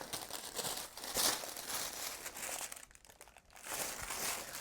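A paper sewing pattern piece for a two-piece skirt being handled, with close crinkling and rustling of paper throughout and a soft flutter as it falls.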